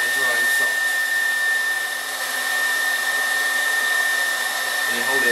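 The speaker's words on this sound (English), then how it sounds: "I grab a hairdryer and put the sock over the top of the hairdryer" A hair dryer with a sock over its nozzle blows with a steady, loud whirring hum and a high whine, running continuously with no voices.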